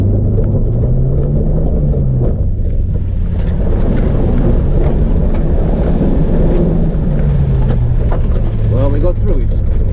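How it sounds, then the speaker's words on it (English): Off-road vehicle ploughing through a muddy field in low ratio, its engine a steady loud low drone with rising and falling pitch as it labours, joined by sloshing and wind buffeting the microphone throughout. "We're going to try it in low ratio and try to plow through."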